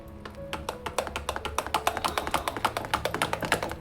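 Sorghum flour dough is mixed with water by hand, producing quick, rhythmic wet slaps and taps, close and moderately loud, speeding up into a steady beating pattern.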